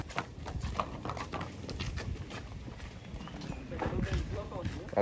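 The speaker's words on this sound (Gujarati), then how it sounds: "હવે ડ્રાઈવર ને ત્યાં જોવી જો ફ્રેન્ડ્સ બે ઘોડીઓ પાછી અહીંયા આવી ગઈ છે" Two mares' hooves clip-clop steadily at a horse farm, a close, irregular run of knocks over continuous talking voices.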